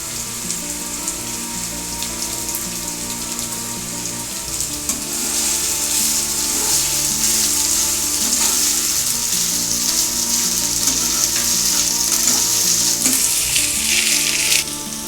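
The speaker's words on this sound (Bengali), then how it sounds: "আলুর সাথে দিয়ে দিচ্ছি নারকেল কুচি। আমি একসাথেই দুটো একটু লাল লাল করে ভেজে নেব।" Diced potato and grated coconut fry together in a pan with ground coriander and cumin, a steady close sizzle that swells louder midway, with occasional stirring scrapes and no talk.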